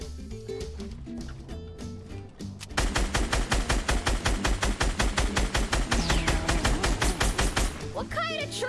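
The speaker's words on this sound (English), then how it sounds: "Aha. Shots." Rapid automatic gunfire in the video game Fortnite, starting after a quieter opening and then running as a fast, steady stream of sharp, loud shots for several seconds, with a voice and game sounds underneath.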